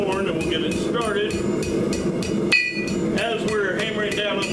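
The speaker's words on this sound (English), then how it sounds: "As we're hammering down on the finial, we're bringing the other side of the hook down." A blacksmith forges a spade hook, striking hot steel on an anvil with a fast, steady series of ringing hammer blows, close and loud, with one brief pause partway through.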